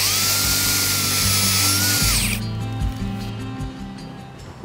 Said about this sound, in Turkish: Şöyle şuraya matkapla bir uygulama yapacağız.